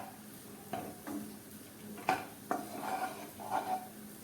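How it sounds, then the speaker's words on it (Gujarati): Sev khamani is stirred together with fresh coriander in a bowl: several faint, spaced scraping strokes of a spoon with light taps, no voices. "કોથમરી એડ કર્યા પછી ફરીથી મિક્સ કરી લઈએ"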